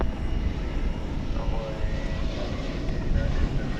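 An airplane roars in a steady, loud, broad rumble as it takes off from runway 18 left at DFW Airport at night.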